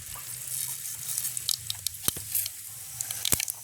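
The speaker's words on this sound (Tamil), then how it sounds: "எண்ணெய் நல்லா சூடாகிட்டு நாங்கள் கடுகை போடுவோம்" Mustard seeds drop into hot oil and crackle, giving a sharp sizzle with scattered pops and spits that come in quick bursts, close and alone.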